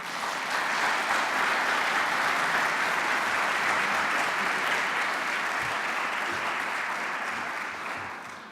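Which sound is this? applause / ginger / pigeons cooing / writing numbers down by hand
applause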